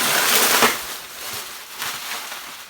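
Bubble wrap from a packing box around an old laptop gives a few crackly pops and rustles during unboxing, close and fairly loud with two sharper bursts.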